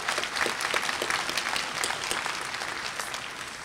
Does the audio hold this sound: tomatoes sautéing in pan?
no